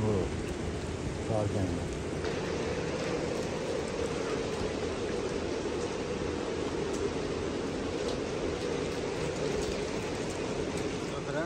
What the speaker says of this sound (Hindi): फ्रेंड्स अभी आप लोग देख सकते हो बारिश अभी काफ़ी कम हो गई है